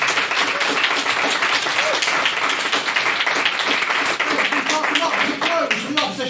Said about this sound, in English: And can we get another round of applause for what was Ms. Jan's maiden speech?